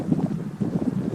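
Gusty wind buffets an outdoor winter campsite, a low, rumbling roar pressing against the microphone in uneven surges over a brief moment.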